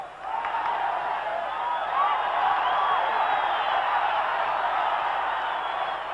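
Football stadium crowd at a 1990 Colombia versus USSR match, a broad, steady roar of many voices with whistles and cheers rising and holding at a distance throughout.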